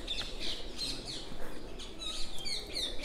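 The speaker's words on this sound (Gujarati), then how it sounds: "કબૂતર અને પક્ષીઓ બધા કલરવ કરે છે." Pigeons and other birds chirp inside a rocky cave, with scattered high tweets, some echoing and some nearer, over a faint hollow background hum.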